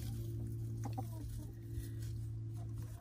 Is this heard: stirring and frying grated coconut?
no